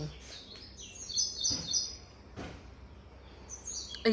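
Birds chirp in quick, high, thin bursts, some near and some farther off, with faint voices in the background.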